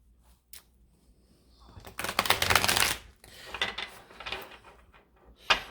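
A tarot deck, freshly trimmed and edged, is riffle shuffled at close range: a soft tap or two, then a dense burst of fluttering card slaps, followed by lighter shuffling and a final snap of the cards squaring up.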